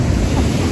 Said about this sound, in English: Look at the sound of the ocean. It's very relaxing.